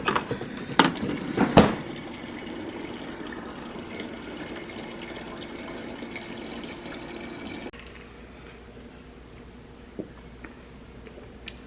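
Water from a kitchen tap fills a glass of ice, with a few sharp clinks at the start, then a steady rushing pour for several seconds that cuts off and leaves a quiet room.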